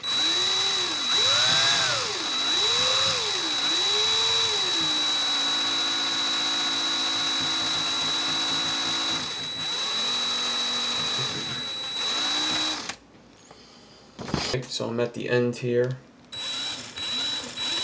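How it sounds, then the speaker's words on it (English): A power drill whirs steadily in forward, twisting wire into a Clapton coil, its pitch wavering at first then holding before it stops, followed by a brief voice and clicks. "I'm just going to keep the drill going in the forward."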